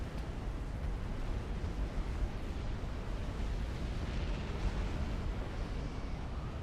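Enormous artillery cannons firing in the strategy game Supreme Commander, a dense continuous rumble of overlapping booms and blasts, steady and moderately loud with no voices over it.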